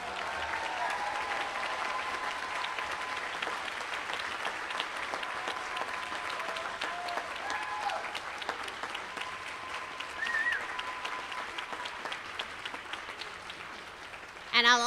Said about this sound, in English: I'm going to take a pause and allow some applause for those who are standing